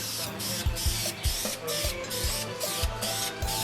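Paint is sprayed onto a Harley engine in a series of short, close hissing passes, each separated by soft clicks and taps, at a modest level with no voices.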